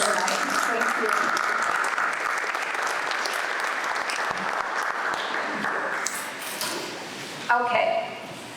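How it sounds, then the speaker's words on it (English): A school evening audience applauds its host, loud clapping from a roomful of people that continues for several seconds, with voices and a few clinks and knocks emerging as it fades. "Can we please give a big round of applause and thank you to Miss Exposito for hosting us tonight"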